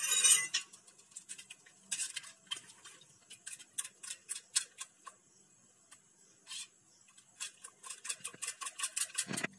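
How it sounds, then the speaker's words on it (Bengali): Egg beater whisking a thickened homemade liquid handwash soap mixture in a container, a close run of quick irregular ticking and clinking strokes with short pauses between bursts. "এখন আমি একটা এগ বেটার দিয়ে এটাকে ফেটে নেব ভালোভাবে।"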